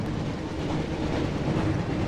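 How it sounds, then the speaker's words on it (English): The Hogwarts Express steam train rolls along in the Harry Potter and the Chamber of Secrets PlayStation 1 game, a steady, full rumble of wheels on track with faint rhythmic clatter. It is continuous and close, with no voices. "Looks like we found the train"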